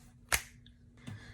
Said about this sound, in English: I'm gonna snap my fingers